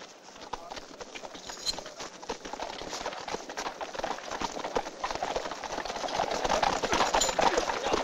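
Rapid hoofbeats of horses galloping, a busy drumming rhythm that grows louder and closer toward the end.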